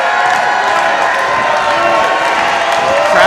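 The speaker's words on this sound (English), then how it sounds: "this has been a great crowd here tonight" An arena crowd at a live professional wrestling event cheers and shouts continuously, a loud, dense roar with rising whoops and voices mixed throughout.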